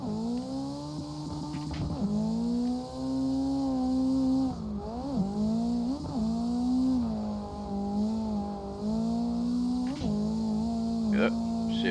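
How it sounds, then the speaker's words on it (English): A car engine in the CarX Drift Online driving game holds a steady buzzing drone, rising and dipping in pitch as it revs and shifts up through the gears into sixth, with brief scrapes and tire noise along the way. "when I shift into that 6th gear, how the engine is just so already ready to light off"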